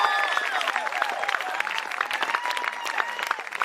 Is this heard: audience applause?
yes